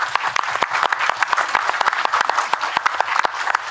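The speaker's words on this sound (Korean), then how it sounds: "박수 부탁드리겠습니다." At an international temple food symposium, an audience gives a short burst of applause: crisp, fairly close claps from many hands in an uneven but continuous run.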